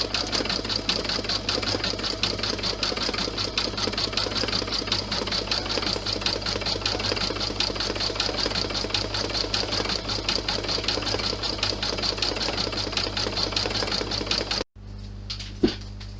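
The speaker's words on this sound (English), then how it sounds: "Now you can see that the machine has stitched all of the red stitches out." An embroidery sewing machine stitches red flag stripes on a USA key clutch with a loud, steady, rapid mechanical chatter for about fifteen seconds, then stops abruptly, leaving near quiet.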